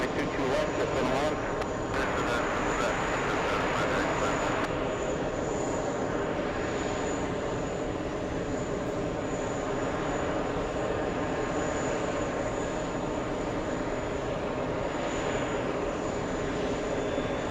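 A heavy Boeing 747 on approach, four miles out to runway 22 left, gives a steady, loud jet engine roar and rumble that holds throughout, with no break and nothing else standing out.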